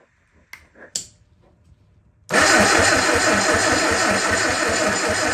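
The engine of a Sunbeam Alpine being built, cranked over during a spark test: a few faint clicks and taps, then a loud, steady rhythmic starter whirr and churn that continues close up without firing, no talking.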